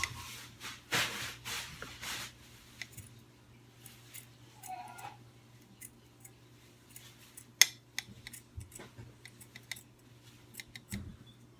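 Scissors trimming tattered burlap for a Dollar Tree fall mantle decoration, a string of quiet close snips and fabric rubs at an uneven pace, with some soft handling noise between cuts.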